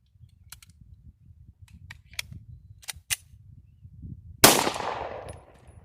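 A Glock 19 pistol fires a single loud, sharp shot at close range, preceded by a few faint clicks and followed by a short decaying echo.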